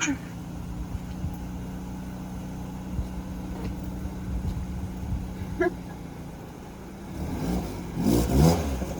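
A car with a throaty exhaust note idles steadily at close range, then revs up toward the end. Excited voices and exclamations come in over the engine.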